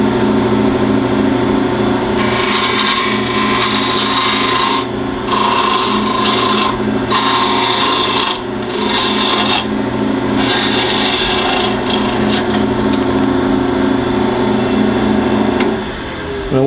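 A wood lathe tool cuts and rounds the end of a colored pencil bottle stopper blank, giving a continuous loud rasping scrape over steady motor hum, with repeated bursts of harsher cutting noise as the tool engages.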